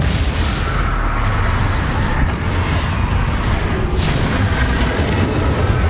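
In Hogwarts Legacy, a Bombarda blasting spell erupts during a duel, loud rumbling booms and crashing impacts rolling continuously for several seconds amid dense battle noise.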